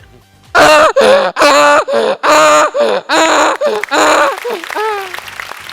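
A mimicry artist on a stage comedy show imitates a donkey's bray with his voice, giving a loud rhythmic series of hoarse, rising and falling honks that end in a trailing wheeze.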